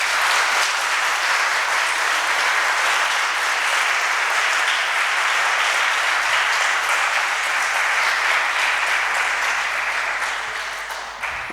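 Loud, sustained applause from a large audience at a declamation contest, clapping for their parents, a dense continuous roar of hands that holds steady throughout and tapers slightly at the end.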